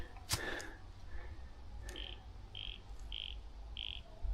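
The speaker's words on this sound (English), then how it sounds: "Hear the frogs?" Frogs calling outdoors in the Australian bush around late afternoon, four evenly spaced high, buzzy croaks repeating about every half second over a steady low rumble, preceded by a couple of sharp knocks.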